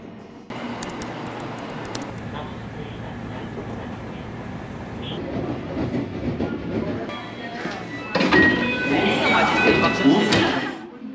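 An overnight sleeper train running from Osaka to Tokyo, heard from inside as a steady low rumble of running gear that grows louder and rougher toward the end, with a person talking over it.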